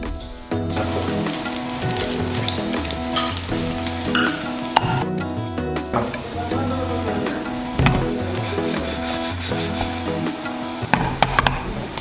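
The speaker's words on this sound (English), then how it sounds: "fry the cutlets until it becomes golden brown color" Moong dal cutlets frying in hot oil, a steady close sizzle and crackle running throughout with occasional clinks of a utensil, no talk.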